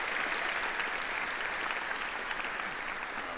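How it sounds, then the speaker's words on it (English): An audience at a Commonwealth Honors College induction ceremony claps for the dean, dense steady applause from a large crowd filling the room without a break. "Can we give a big round of applause to our wonderful Dean, Maria Castaneda, for everything she's done for us?"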